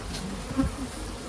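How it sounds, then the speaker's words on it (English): Close, steady buzzing of many bees in a hive, a droning hum with a slight swell partway through. "There's bees up here."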